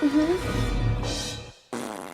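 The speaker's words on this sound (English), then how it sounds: "Oops. I farted." A loud, close fart with a wobbling, rising buzz lasts about a second and a half, then cuts off abruptly before a burst of background noise.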